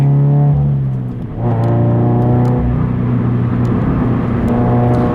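A Subaru BRZ sports car with a manual gearbox drives in VSC sport mode, its engine droning steadily from inside the cabin, dipping briefly before pulling back up into a sustained, loud harmonic hum with no talk over it.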